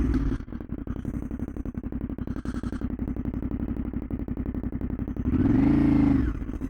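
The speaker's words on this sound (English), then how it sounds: "All right, let's see how this bike does with a U-turn." Yamaha Tenere 700 adventure motorcycle making a U-turn, its twin-cylinder engine idling and putting along with a steady low throb, then rising in a brief rev near the end; close and fairly quiet, with no talking.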